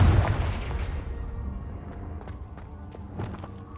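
A Confringo fire spell explodes in a Hogwarts Legacy cave, a loud booming burst up front that decays into a rumbling tail with faint scattered crackles afterward.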